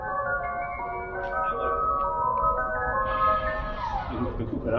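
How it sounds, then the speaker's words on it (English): An ice cream truck jingle played through a Tesla Model 3's external speaker, a bright tinkling melody with sustained tones, heard at moderate distance with people chatting over it. "Let me hear that ice cream truck noise again."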